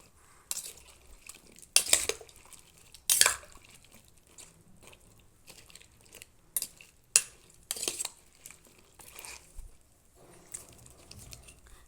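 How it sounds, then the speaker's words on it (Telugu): Cauliflower florets stirred by hand in a bowl of salted turmeric water, with intermittent light splashes, drips and clinks of the vessel spread over the stretch, otherwise quiet. "వేసి ఇలా లైట్గా అంతా కలుపుకోవాలండి"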